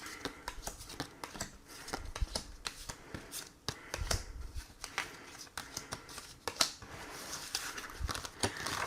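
Tarot cards shuffled by hand before a card reading, heard as close, soft riffling and flicking in irregular bursts, with light taps and patter throughout.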